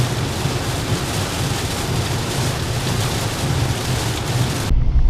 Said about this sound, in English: Oh my God, there's so much rain.